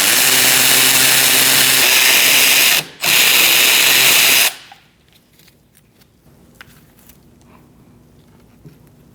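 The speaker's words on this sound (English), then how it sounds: "We're going to use a 7mm Allen wrench socket and remove our 2 pins." A power tool with a 7mm Allen socket spins out the brake pins on a 2000-2006 Mini Cooper's rear brakes, giving a loud, steady whirring drive that briefly pauses, then runs again and stops, leaving near silence.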